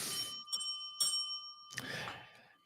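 Bell rung three times to celebrate a Pittsburgh Steelers win, three sharp ringing strikes with lingering metallic tones, close and clear with no talk over them.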